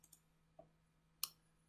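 Computer mouse clicks in a game editor: a few faint, sharp isolated clicks spaced apart over a quiet background hum.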